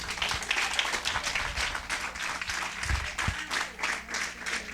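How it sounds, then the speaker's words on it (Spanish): A church congregation claps and applauds, a dense, steady patter of many hands at moderate loudness that rises and falls slightly, with no talk over it. "Denle un aplauso al Señor, amén."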